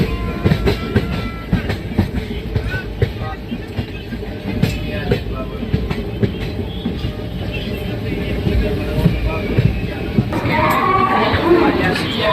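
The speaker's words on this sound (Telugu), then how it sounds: "ట్రైన్ సికింద్రాబాద్కి 12 మినిట్స్ లేట్ అయితే వచ్చింది." Krishna Express passenger train arriving at Secunderabad Junction, heard from on board as a steady rumble with wheel clatter throughout, plus faint voices and station bustle in the background.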